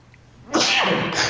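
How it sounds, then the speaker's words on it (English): One loud, close sneeze bursts out sharply after a quiet moment, followed by a breathy tail. "Excuse me, I'm going to sneeze."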